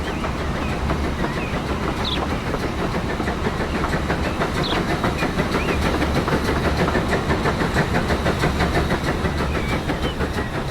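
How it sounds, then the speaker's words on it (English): An express train arriving in the railway game Transport Fever 2: a steady rolling rumble with a fast, rhythmic clickety-clack of wheels over track, continuous and fairly loud, with no voices. "the express train's still probably working its way in"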